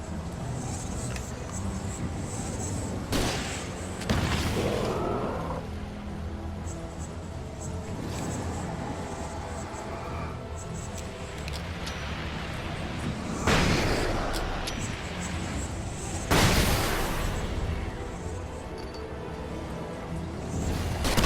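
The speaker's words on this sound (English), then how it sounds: "Flare gun time." Flare gun fired in Alan Wake Remastered, several loud bursts spaced across a steady dark ambient rumble, each a sharp broadband blast with a short fading tail.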